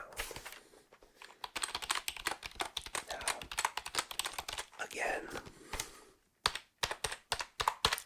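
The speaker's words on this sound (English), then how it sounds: "this keyboard has a very, very thocky sound." Thocky mechanical computer keyboard typed in bursts of close, crisp clacks with brief pauses, a soft whispered voice dropping in between keystrokes.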